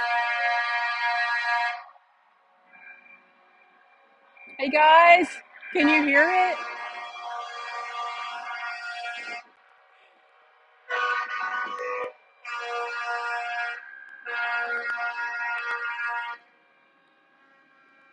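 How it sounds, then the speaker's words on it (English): Car and truck horns honk at a protest convoy, long sustained blasts and shorter toots in separate bursts with quiet gaps between, fairly loud, while someone briefly talks. "the horns are honking"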